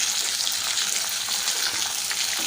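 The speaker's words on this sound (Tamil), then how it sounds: "வெண்டைக்காய் வந்து அந்த எண்ணெயில் நல்லா வதங்கி வரட்டும்" Okra sautéing in oil with turmeric and salt for a Thanjavur-style dish, a loud, continuous close sizzle and crackle with no talking.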